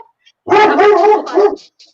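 A dog barks through a video call in a couple of quick, close yelping bursts that stand out clearly against silence.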